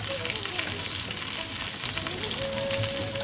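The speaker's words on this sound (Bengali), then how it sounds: "এবার আমি কুচনো পেঁয়াজ দিয়ে দিলাম। পেঁয়াজটাকে এবার আমরা ভেজে নেব।" Chopped onions fry in hot mustard oil in a pan, giving a steady, close, bright sizzle that runs continuously without pause.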